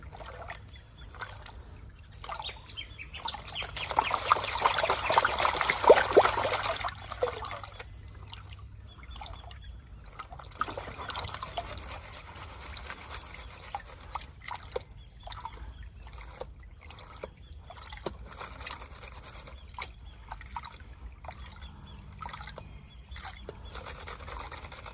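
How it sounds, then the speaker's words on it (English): Water sloshes and trickles as gravel is washed in a gold pan, with a louder swirl of splashing early on, then quieter dribbles and faint knocks of stones. "Gold sinking, washing off the rubbish."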